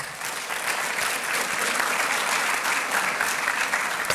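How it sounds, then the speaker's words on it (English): A New York diaspora audience gives a round of applause, steady dense clapping that holds at an even level for about four seconds. "let's give ourselves a big round of applause"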